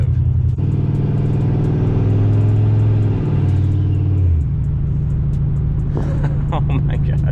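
A single-turbo Ford F-150 pickup pulls hard from a standstill, its engine droning steadily and rising in pitch through the gears, heard from inside the cab as a loud continuous roar with people talking over it.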